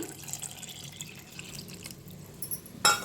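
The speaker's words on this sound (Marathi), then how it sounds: "त्याच्यात ओतूया 1 वाटी पाणी" Water from a small bowl is poured into a pan holding turmeric and coriander powder for pea kadhi, a quiet trickling splash with a brighter clink near the end.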